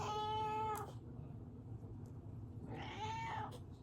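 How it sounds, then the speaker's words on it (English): A female house cat meows twice, a long clear call followed after a pause by a second shorter one, close by over a low steady background hum. "If my cat did not like it, she would walk away, because that's how cats are."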